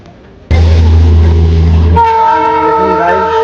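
The Darjeeling toy train arrives at Batasia Loop and sounds its horn, a sudden loud, long blast that shifts to a higher steady tone partway through, close and dominating the scene.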